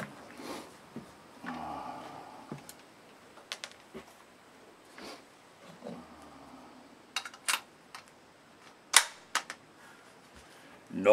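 Gunshots at an outdoor shooting range, aimed into a backstop: sharp, scattered cracks at irregular intervals, some louder than others, between quiet stretches with a few faint voices.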